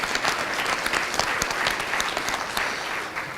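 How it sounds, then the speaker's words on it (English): Steady banquet applause from an audience at a Kiwanis Club student awards dinner, a dense, even wash of many hands clapping close by for the full stretch with no voices on top. "So if we could get a little round of applause for him really quickly before I go on."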